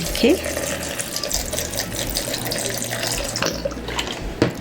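Rose water poured into a blender with okra for a hair conditioner: a close, continuous trickling pour of liquid, with a voice speaking over it.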